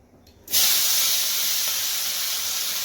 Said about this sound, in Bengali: তো এখন তেলটা গরম হয়ে গেছে, এখন বেগুনগুলো দিয়ে দেব।